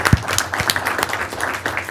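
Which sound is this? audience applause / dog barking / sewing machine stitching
audience applause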